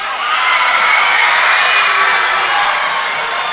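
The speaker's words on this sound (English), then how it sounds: "Crazy crowd here. Great crowd." A packed gym crowd at a high school wrestling duel roars and cheers loudly and continuously, a sustained wall of voices that swells slightly mid-way.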